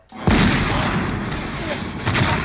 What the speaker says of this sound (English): They just get bombarded by rocket fire, each rocket missing more than the last.